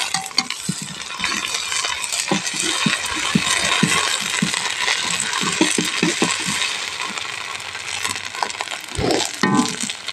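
Ground garlic, ginger and coriander pastes are stirred into chicken in a pan, with close, repeated scraping and clattering of a spoon against metal and a light sizzle underneath.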